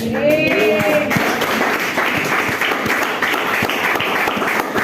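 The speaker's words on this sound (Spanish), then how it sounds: "Dele palmas a Dios, hermano." A congregation in a church service claps loudly and steadily for several seconds, a thick continuous roll of applause with a brief voice at the start.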